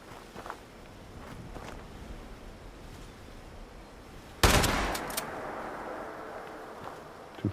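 A shotgun fires once in the post-apocalyptic video game Fallout 76, a sudden loud blast with a ringing tail, set against steady footsteps and ambient game noise.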